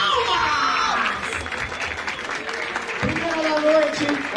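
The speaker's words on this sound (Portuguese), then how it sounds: "Palmas, família," Crowd applauding at a rap battle, the 285th Batalha da Aldeia, a steady wash of clapping with a voice speaking over it near the start and again toward the end.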